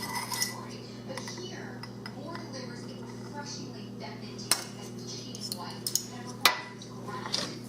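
Tablespoon clinking against a bowl while sugar is measured in for quick Semmel rolls, a few light metallic taps and clinks, the sharpest near the end, with talking over them.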